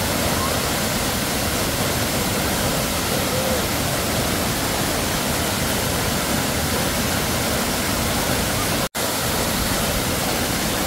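Powerful waterfall roaring steadily at close range, a loud dense wash of rushing water that fills the whole stretch with only a momentary dropout near the end.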